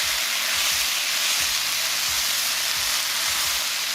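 Chicken and other ingredients for a Mexican dinner sizzle loudly in a hot pan as they are stirred together, a dense steady hiss with soft scraping knocks from the spoon, close up and without voices.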